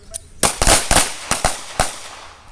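Handgun shots at an outdoor shooting range during combat accuracy practice, several sharp loud reports fired in quick irregular succession, each with a brief decay.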